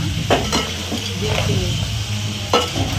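Crabs sizzle and fry steadily in a pan, with a few close scraping stirs and utensil clinks over the continuous crackle.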